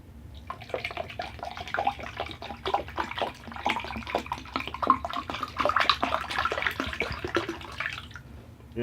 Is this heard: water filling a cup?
yes